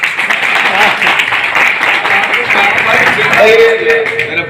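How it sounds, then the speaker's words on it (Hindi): An audience at a poetry mushaira in Khandwa keeps up steady, dense applause throughout, with a voice speaking over the clapping. "अब आप चाहे तो ताली बजा सकते हैं।"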